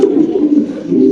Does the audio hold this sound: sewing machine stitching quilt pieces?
no